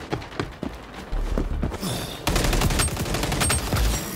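Rapid sniper and rifle gunfire in the shooter game XDefiant, loud bursts of close shots and crackling fusillades that keep going for several seconds.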